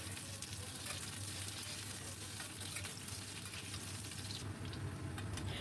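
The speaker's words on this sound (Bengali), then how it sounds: "কড়াতে 2 চামচের মতো সর্ষের তেল গরম করে প্রথমে আমি কেটে রাখা দুটো আলু ভেজে নিলাম" Cut potatoes frying in mustard oil in a wok, a steady dense sizzle with occasional stirring, close and continuous throughout with no talking.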